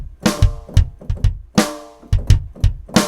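A basic drum beat alternating deep bass drum thumps and sharper, ringing snare hits in a steady, upbeat rhythm, played alone.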